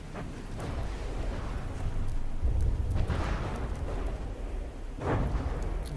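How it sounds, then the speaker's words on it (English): Bombs explode in the naval combat game From the Depths as a continuous low rumble with rolling, muffled blasts that swell and fade, with no voice over it. "And some of the bombs getting in here."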